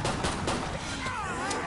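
Dual 1887 lever-action shotguns fire in Killing Floor 2, with a few sharp, loud shots punching through dense, busy game noise.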